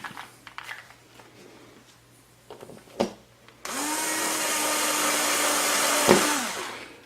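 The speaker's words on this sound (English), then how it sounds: "We hold the adjustment head down and we'll drill through this area." A small power drill with a 1/8 inch bit bores through a part of a box quad antenna build, starting after a few handling clicks and running as a loud, steady whine for about three seconds, close by with no talk.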